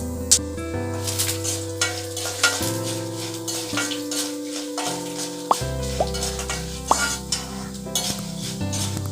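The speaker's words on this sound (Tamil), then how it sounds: "எல்லாத்தையும் போட்டு நல்லா வறுத்து எடுத்துக்கோங்க" Spices roast in a kadai with a continuous dry sizzle, punctuated by occasional stirring scrapes and soft knocks, close and fairly loud; steady tonal hum underneath.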